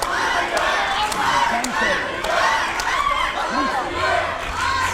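Spectators at the EuroArm 2025 junior left-arm armwrestling finals shout and cheer in a continuous, loud roar, with individual voices rising out of the crowd noise.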